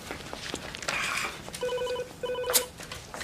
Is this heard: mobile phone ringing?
yes